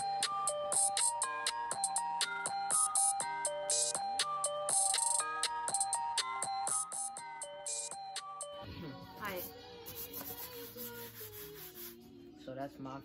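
A phone ringtone plays as a bright, repeating melodic tone pattern, changing to a different busier jingle partway through, with no talking over it.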